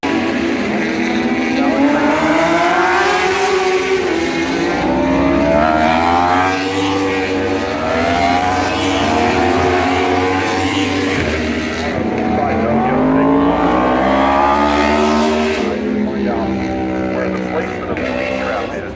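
High-revving Yamaha racing motorcycle engines at Laguna Seca scream past one after another, pitch rising and falling as they pass at close range, loud and continuous.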